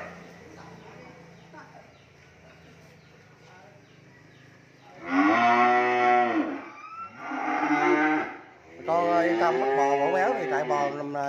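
Several loud, close cattle moos from a herd of French cream-coloured and Barbie cream cattle at a cattle farm, three long harmonic calls in succession over a quieter background of murmuring and farm noise.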